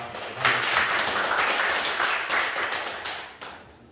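A church congregation at a Sunday worship service claps in encouragement, a steady burst of applause lasting several seconds that starts briskly and slowly fades, with no talk over it.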